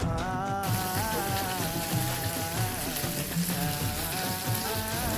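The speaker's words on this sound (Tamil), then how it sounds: "நான்ஸ்டிக் பேனில் கொஞ்சமாக எண்ணெய் சேர்த்து நம்ம எடுத்து வச்சிருக்கிற ஃபிஷ்ஷை அழகாக அடுக்கி வச்சு பொரிச்சு வச்சிடலாம்" Steady, dense crackling and sizzling of seer fish frying in a little oil in a nonstick pan, continuous and fairly loud throughout, close by.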